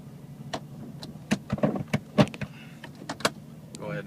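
A classic Jeep Cherokee drives in four-wheel drive high, already in third gear. A steady low engine drone runs throughout, with scattered sharp knocks and rattles inside the cabin and no talking.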